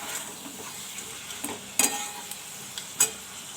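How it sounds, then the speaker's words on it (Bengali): Chicken pieces fry lightly in a pan with salt and turmeric, a soft steady sizzle broken by occasional sharp clinks of a spatula or utensil against the pan. "আর এদিকে চিকেনটাকে ভাজতে দিয়েছি নুন আর হলুদ দিয়ে"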